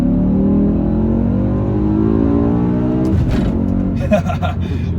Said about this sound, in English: let's try this gear shift